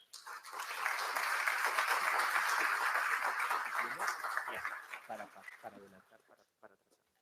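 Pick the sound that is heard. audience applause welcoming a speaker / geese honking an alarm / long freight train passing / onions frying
audience applause welcoming a speaker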